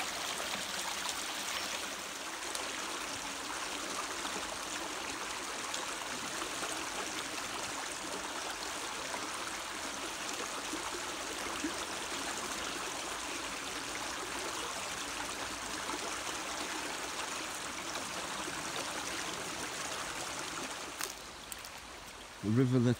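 A river flows steadily nearby at a riverside campsite, producing a soft, continuous wash of moving water that lasts throughout before a brief rustle and handling noise near the end.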